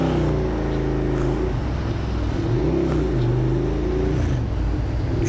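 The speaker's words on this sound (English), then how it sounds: "The car is running." A car engine runs steadily and close, its revving pitch climbing and dropping as the driver changes gear, with continuous road rumble and no talking.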